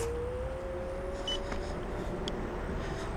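A NIU KQi 100F electric scooter pulls away under throttle in dynamic mode, a steady motor whine rising gently in pitch over continuous wind and road rumble, with no talking.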